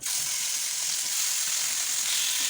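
Meat fries in a hot pan with oil, a steady, loud, close hiss and crackle of sizzling that carries on without a break and with no one talking.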